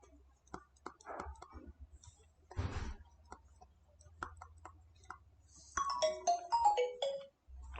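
A mobile phone ringtone plays a short rising-and-falling melodic phrase late on, preceded by scattered quiet ticks and a soft voice in a classroom setting.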